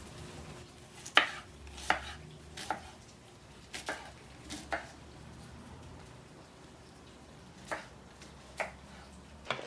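Knife chopping tomato and onion into large chunks on a cutting board, a series of sharp, distinct chops spaced irregularly with short pauses, close and fairly quiet against a low background hum.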